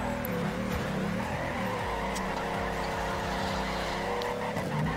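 A tuned drift car in the racing game Torque Drift, running new wheels, has its engine bogging down, a loud, steady, strained drone with faint tire noise mixed in and no pause throughout.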